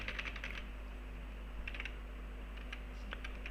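Rapid bursts of computer keyboard typing while filling in an HTML form field, clustered clicks in short runs with pauses between them, close and fairly quiet over a steady low hum.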